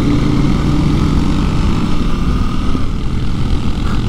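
CFMoto 800NK motorcycle engine accelerating in street mode, a steady loud droning roar with strong low rumble and constant wind buffeting, sustained throughout without speech.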